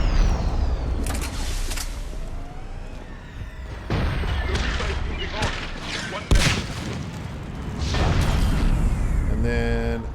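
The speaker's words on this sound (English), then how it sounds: "You get an explosion. Everybody gets an explosion." Explosions and gunfire in the Mass Effect 3 video game sound as a loud, continuous barrage of booms and weapon fire, with a voice talking over the battle.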